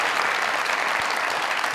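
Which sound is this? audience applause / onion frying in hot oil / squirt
audience applause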